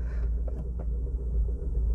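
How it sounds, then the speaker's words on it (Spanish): Manual-transmission car in first gear starting to roll as the clutch releases on flat ground, a low engine rumble with faint shudder, close and steady. "Pero cuando ya estoy aquí ya siento que empieza a temblar y el carro aquí ya se empieza a mover."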